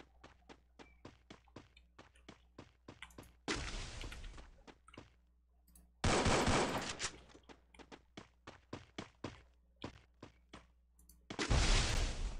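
Gunfire in the Free Fire video game: sharp single shots and quick clicks in an irregular rhythm, broken by three loud, dense bursts of sustained automatic fire.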